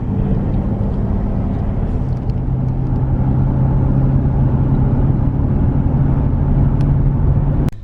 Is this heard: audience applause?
no